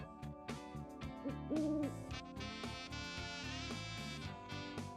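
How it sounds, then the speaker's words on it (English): An owl hoots in the Moon: Remix RPG Adventure video game, over the game's steady tonal music. The hoot is a short, clear call that stands out around the middle of the stretch, with no talking. "The sleeping guy could be making the owl noise."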